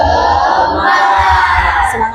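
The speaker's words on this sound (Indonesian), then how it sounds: "Kita tepuk semua dulu ya. Tepuk semangat." A school class performs the tepuk semangat chant together, with loud voices shouting in unison in a short, energetic burst. Distinct hand claps are hard to pick out.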